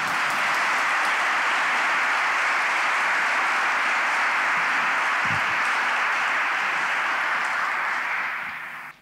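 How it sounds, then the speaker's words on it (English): Applause welcomes a lecturer in a cathedral, a sustained, even wash of many hands clapping that fills the space, continuing steadily before tapering off at the end. "let's welcome Professor James Edwards with a real round of applause."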